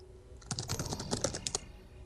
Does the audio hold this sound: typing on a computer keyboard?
yes